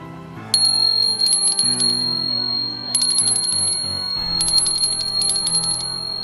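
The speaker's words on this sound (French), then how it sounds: "actionner la petite clochette en laiton, qui d'un son grêle, ne manquerait pas d'alerter le fossoyeur" A small brass bell rings in quick, clear, bright bursts, three clusters of rapid strikes with a thin metallic ring.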